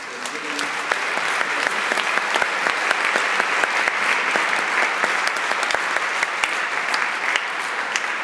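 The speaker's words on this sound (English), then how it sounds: "we want to make sure we give them a nice round of applause" Sustained applause from an audience filling Symphony Hall after a high school symphonic band concert, a dense steady patter of many hands clapping throughout, close and loud, with no talk.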